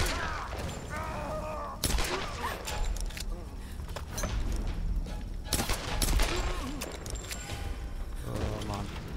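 Gunfire in the action game Tomb Raider: rattling automatic bursts and single sharp shots in irregular clusters, loud and close, mixed with mechanical clatter and voices speaking over the fight.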